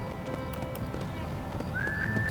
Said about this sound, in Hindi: घोड़ा भागता हो ना मेरा